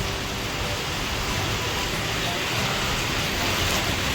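Heavy rain pours steadily outdoors during the monsoon, a dense, even hiss of falling water that holds at constant loudness throughout with no voices.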